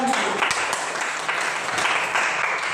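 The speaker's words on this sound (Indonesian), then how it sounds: "tepuk tangan untuk kelompok bulan" Steady applause from a classroom audience for a student group during a school practical exam, a dense, continuous wash of clapping at moderate volume with faint voices mixed in.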